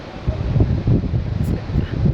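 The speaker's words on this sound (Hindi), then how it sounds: "इतनी प्यारी हवा चल रही है" A steady breeze blows through Sonmarg in Kashmir in summer, a soft continuous rush with low rumble and gentle rustling that stays even throughout, with no voices.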